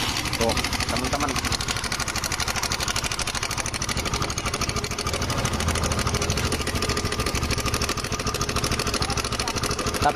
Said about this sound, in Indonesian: Ini suara mesinnya ngeri sekali, parah ya